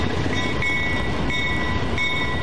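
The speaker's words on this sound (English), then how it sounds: "It's a beautiful sight to behold to see this locomotive gracefully rolling through the Adirondack Forest" A locomotive rolls along the Adirondack railroad line in 1993 with a loud, steady rumble. A sustained high tone runs over the rumble throughout.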